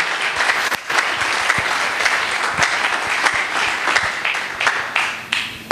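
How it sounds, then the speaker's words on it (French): A church congregation breaks into sustained, dense applause at a sermon, the clapping loud and close, dipping briefly near the start and thinning toward the end. "Est-ce qu'on peut acclamer pour le Seigneur?"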